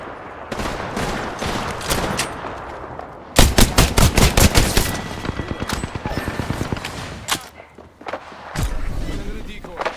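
Rapid automatic gunfire in the Apex Legends battle royale game, loud close bursts of shots in quick series with pauses between, plus scattered single shots and a voice speaking.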